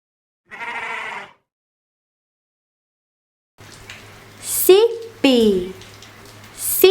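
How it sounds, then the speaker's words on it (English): A sheep bleats a few times close by during a farm animal lesson for children, short wavering calls arriving after an earlier brief sound and a stretch of silence. "That's what the sheep says."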